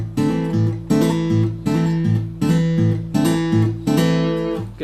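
Travis-picked acoustic guitar with a deliberately heavy alternating bass note, a steady pulsing pattern of chord attacks ringing close and clear with no voices.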